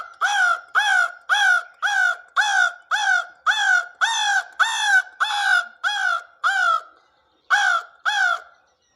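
A voice imitates a crow's caw, delivering about fourteen harsh, evenly spaced caws in a steady rhythm, loud and close, with a short pause before the last two.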